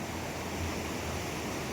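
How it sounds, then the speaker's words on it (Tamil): River water released from Kallanai dam surges past Soorakottai on the Thanjavur main road as a dense, unbroken roar, steady and full with no pauses. "தண்ணீர் வந்து இந்த இடத்துல எவ்வாறு பாயுது என கல்லணையில் திறந்து விட்ட தண்ணீர் தாங்க"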